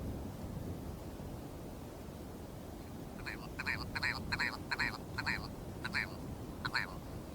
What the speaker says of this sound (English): the rock ptarmigan.